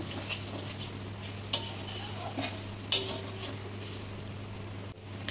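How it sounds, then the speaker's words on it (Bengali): Spice masala is sautéed with chopped tomatoes in a pan for aloo chana masala. Soft sizzling runs beneath a steady low hum, while a spoon stirs and scrapes, with two sharper metallic clinks against the pot. "এবার আমি কেটে রাখা টমেটোর টুকরোগুলোকে দিয়ে দিলাম, দিয়ে ভালোভাবে আরেকটু মশলাটা কষাবো"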